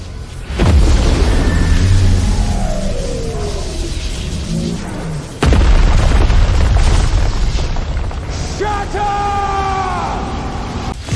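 Lightning magic blasting goblins in a fantasy summoner battle, with two massive booming explosions and crackling, shattering rumbles that sustain between them, and faint yelling mixed in throughout.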